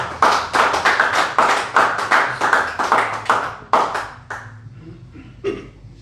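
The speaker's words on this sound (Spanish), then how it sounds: "Bríndenle un fuerte aplauso al Señor" Applause for the Lord in a church service: a small group claps in quick, distinct, near hand claps, fairly loud, then thins to scattered claps before fading out.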